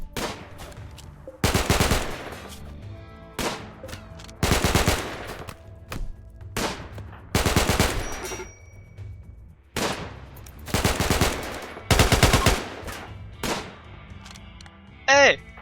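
Gunfire from characters shooting in the RimWorld video game, with repeated bursts of rapid shots in clusters across the clip and quieter gaps between them, alongside talking.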